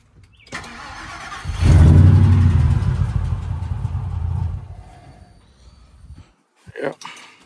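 Ford truck engine cranking and catching, then rumbling loudly for a few seconds before dying away and shutting off, followed by a brief knock and a short voice near the end.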